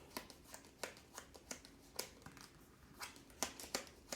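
Board game cards being shuffled during a solo tabletop session: a series of soft, quick riffling and snapping bursts at an irregular rhythm, close and fairly quiet, with no talking.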